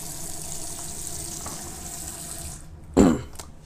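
Tap water runs steadily into a bathroom sink while black-and-white film is developed at home, a continuous hiss that cuts off and then splashes loudly near the end.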